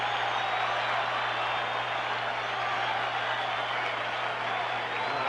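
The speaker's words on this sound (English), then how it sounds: "Yogi getting a standing ovation from this crowd" A baseball crowd at the 1976 World Series Game 4 gives Yogi Berra a standing ovation, a steady wash of distant cheering and applause that holds at an even level throughout.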